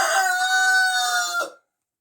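A sick hen gives one drawn-out, strained squawk, close and fairly loud, lasting about a second and a half before cutting off into silence.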